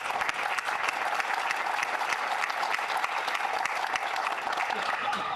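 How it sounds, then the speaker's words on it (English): A Memorial Day community crowd applauds itself at a city ceremony in Bonita Springs, a steady wash of many hands clapping, moderately distant and continuous. "You need to give yourselves a round of applause."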